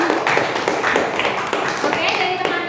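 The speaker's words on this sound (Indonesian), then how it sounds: "kita beri tepuk tangan dulu" A small classroom group claps for a student group presentation, with a loose run of individual, fairly close hand claps in an uneven rhythm and some voices mixed in.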